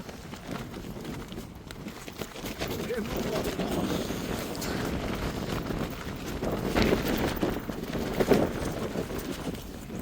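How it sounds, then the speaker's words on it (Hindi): Strong night wind roars steadily around a winter mountain camp at Chhika on the Hamta Pass trail near Kullu-Manali, a loud broadband rush that swells and gusts louder toward the end, buffeting close to the microphone. "हवा क्या बज रही इस टाइम भाई?"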